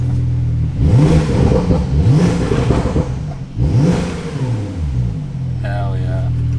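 A Porsche 992 Turbo S with a titanium exhaust revs three times in quick succession inside an echoing enclosed space, each loud rising bark falling back to a steady idle.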